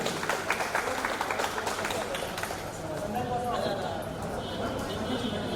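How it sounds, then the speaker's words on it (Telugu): Audience at an alumni reunion clapping for a helper, a burst of moderately loud applause that thins out as a voice talks over it. "అతని కోసం కూడా ఒకసారి గట్టిగా చప్పట్లు కొడతాం."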